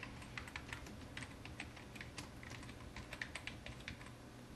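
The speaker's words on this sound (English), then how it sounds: "I'll type something in here." Quick, quiet typing on a computer keyboard, irregular clusters of soft key clicks heard close up over a low background hum.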